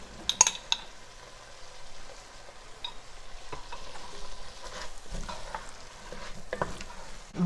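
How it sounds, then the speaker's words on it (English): Minced garlic sizzles in a hot pan for a chicken stew, with a soft steady fry under scattered clinks and scrapes of a utensil stirring, close and fairly quiet. "next I'm going to add in my garlic"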